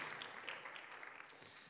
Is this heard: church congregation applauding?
yes